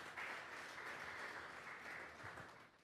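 A Spanish-speaking congregation applauds during a Sunday morning church service, a dense, steady wash of many hands clapping at once that holds for several seconds without voices over it.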